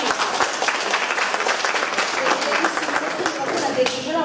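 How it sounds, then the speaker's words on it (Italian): Applause for the mothers at a school theatre performance, dense close clapping from a crowd with a lively, continuous texture and voices mixed in underneath. "Un applauso per le mamme,"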